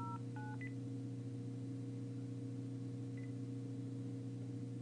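A telephone number is dialed: a quick series of three touch-tone beeps at the start, then one more short tone a few seconds later, all over a steady low electrical hum with no speech.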